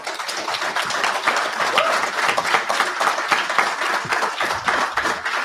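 Audience at a New Jersey congressional debate claps after a candidate's closing remarks, a moderate, even spread of applause from the room lasting several seconds.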